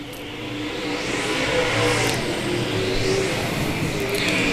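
USRA modified race cars roar around a track, a dense, loud, sustained engine drone with passing swells as cars go by in traffic.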